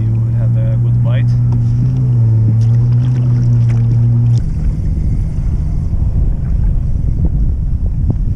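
Steady wind roars across a fishing boat at sea during early-morning trolling, a loud continuous rush with a low engine hum in the first half, and a person talks briefly over it.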